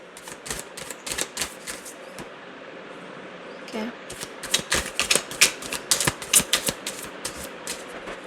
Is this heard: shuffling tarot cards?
yes